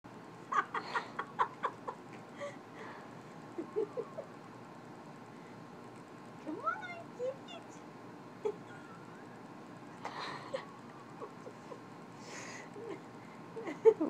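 A chicken clucks in short bursts and soft repeated calls on a farm, near and moderately loud, with quiet gaps between the sounds.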